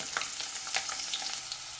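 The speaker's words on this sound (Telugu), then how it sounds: "మనకి ఈ ఎల్లిపాయ పోపు అయితే మంచిగా వేగిపోయింది కదా" Garlic tempering with lentils frying in hot oil in a pan, a close, steady crackling sizzle with scattered sharp pops throughout, no voices.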